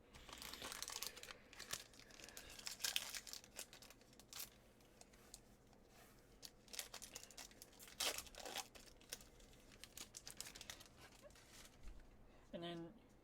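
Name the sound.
tearing open Wilds of Eldraine booster packs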